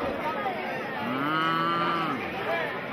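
A child imitates a cow with a long, wavering moo, loud and close, amid background chatter from people outdoors in a Spanish village.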